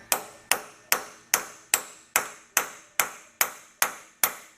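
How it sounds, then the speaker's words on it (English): Eleven sharp metallic hammer strikes on a punch, loosening part of a Bobcat SS175 skid steer hydraulic cylinder, evenly spaced and ringing briefly, close by with nothing else heard. "you're going to use a punch and a hammer"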